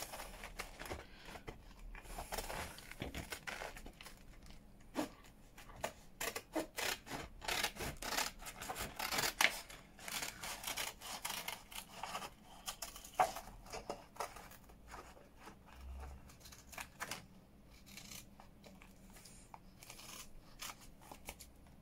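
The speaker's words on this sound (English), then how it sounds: "So I'm just gonna cut round them all." Scissors snip around the edges of handmade paper notepads for a junk journal, a steady run of close, dry cutting and rustling strokes, with no talking.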